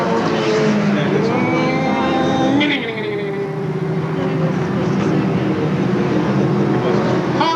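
Four-cylinder race cars roar around the oval at Seekonk Speedway, a loud sustained engine drone with shifting pitch as cars pass, mixed with an announcer's voice calling the race over the noise.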